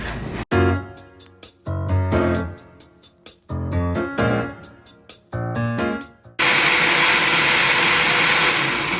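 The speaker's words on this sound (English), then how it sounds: "now let's just get to blending" A blender blending enchilada suiza sauce whirs in a series of short pulsed bursts, then runs continuously at full speed, loud and close.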